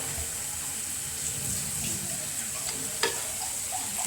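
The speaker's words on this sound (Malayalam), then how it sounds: "ആവശ്യത്തിനുള്ള വെള്ളം ഒഴിച്ചു കൊടുക്കാം" Constant hiss of water poured into a hot fish curry pan, a rushing pour over bubbling, with one brief clank near the end.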